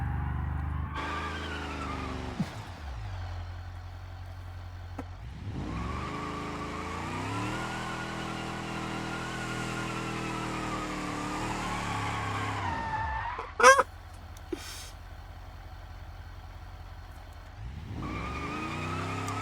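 A four-door car in the driving game BeamNG.drive revs and drives with loud engine tones, broken by gaps, with tire skids and a few sharp knocks near the end, no one talking.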